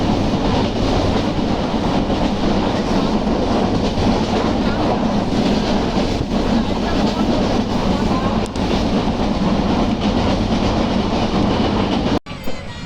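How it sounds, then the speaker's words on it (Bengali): Benapole Express runs over 90-pound rails, a loud, continuous rumble and roar with a steady clatter, heard close from on board, with speech faintly under the noise. "ট্রেনটিতে অনেক শব্দ আপনারা শুনতে পাচ্ছেন।"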